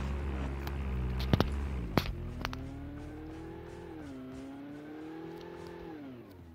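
A car in the Call of Duty Mobile battle royale game pulls away, its engine rising and falling in pitch as it drives off, with a few sharp bangs early on and no talk.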